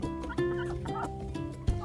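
Chickens cluck and murmur close by as the flock heads into the coop for the night, a steady busy chatter with overlapping calls and one louder squawk near the end.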